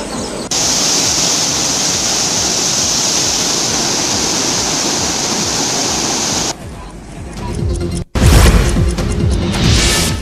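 Floodwater of the swollen Bhima river pours over a bridge near Ghattaragi, a loud steady roaring rush that fills the clip and is cut off abruptly twice before surging back louder.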